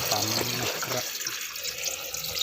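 Water running from a tap fed by a solar-powered 150 watt DC pump drawing from a 20-metre-deep well, a steady gushing stream loud and close throughout.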